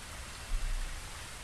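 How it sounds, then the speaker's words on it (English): Rain in the game Phasmophobia: a faint, steady hiss of falling rain with a soft low rumble beneath, continuous and without voices. "Oh, it's raining."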